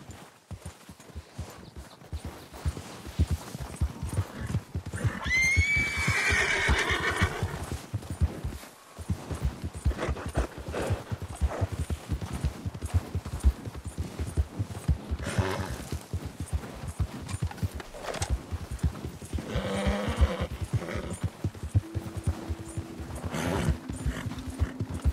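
Horse in the game Red Dead Redemption 2 trotting with a steady clip-clop of hooves, a whinny partway through, and a rider's voice urging it on softly.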